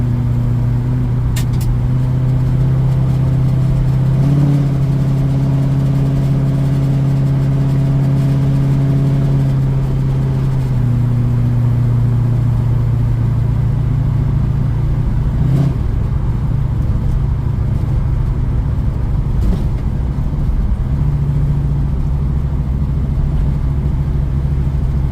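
A 1972 Ford Mustang Mach 1 engine, freshly upgraded, runs steadily at close range with a deep, even drone and brief shifts in pitch as the revs change, with no voices over it.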